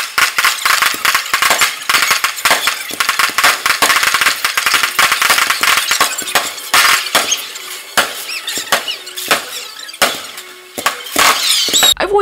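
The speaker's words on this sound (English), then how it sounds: "I recorded 60 seconds of fireworks from indoors." Fireworks outside during a night of celebrations go off in rapid crackling bursts, a dense irregular stream of sharp pops and bangs, sounding somewhat muffled as if heard from indoors.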